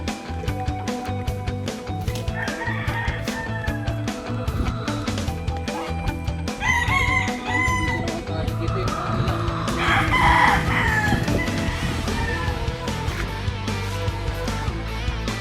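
Roosters and stags on a small gamefowl chicken farm crow repeatedly, some near and some farther off, over scattered clucking and a busy yard background.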